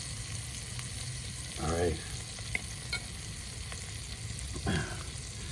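Wagyu ribeye searing in a hot pan, a constant close hiss and sizzle with a couple of brief louder bursts, and a voice speaking briefly.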